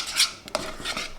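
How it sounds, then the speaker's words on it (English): A spoon scrapes and stirs a thickening playdough mixture in a cooking pot, giving a few soft metallic scrapes and clinks, faint and close, with no talking. "so I've got to keep stirring"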